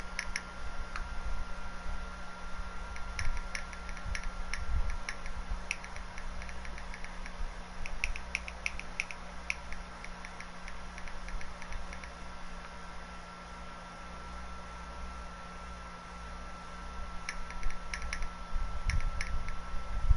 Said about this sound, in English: All that noise is me texting.